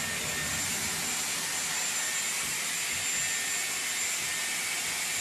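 Dyson Airwrap hair styler with a 40mm barrel blowing air through the ends of hair during a round-brush blow-dry, a loud steady whooshing roar that runs unbroken and close, with no voices over it.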